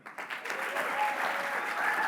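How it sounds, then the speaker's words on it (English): An audience at a Libertarian Party of California presidential debate breaks into sustained applause, swelling quickly and holding as a dense, steady clatter of clapping for about two seconds. "Round of applause"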